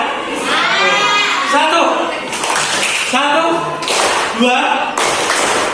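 Group performing a rhythmic hand-clapping game in a classroom, bursts of claps alternating with lively voices, chanting and laughter throughout.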